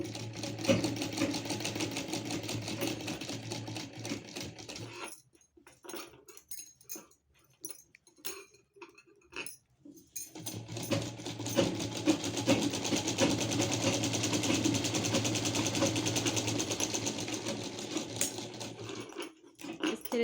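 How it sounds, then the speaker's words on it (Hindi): A sewing machine runs in a steady buzzing stretch while stitching a chundri print gown, stops for a few seconds, then runs again for a long continuous pass. "तो अभी मैं इसे एक साइड से स्टिच कर रही हूँ"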